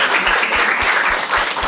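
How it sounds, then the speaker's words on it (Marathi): A brief, loud burst of audience applause and clapping fills a Marathi stand-up comedy crowd-work show, dense and close for under two seconds. "टाळ्या वाजाय दोघांसाठी एकदम."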